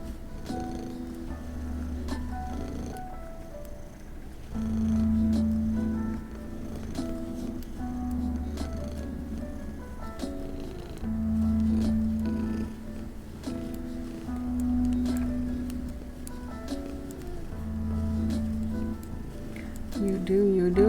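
A house cat purring close by, a low rumbling that swells and fades in steady cycles with each breath, with quiet talk faintly in the background.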